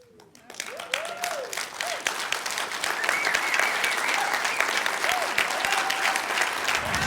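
An audience at a motivational talk bursts into applause after a brief quiet moment, and the clapping swells into a dense, steady ovation that holds loudly to the end.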